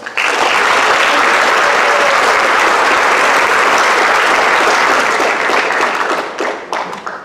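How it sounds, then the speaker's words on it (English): An audience at a high school spring athletic award program breaks into loud, dense applause that holds steady for several seconds before thinning into scattered claps. "please give these girls a round of applause"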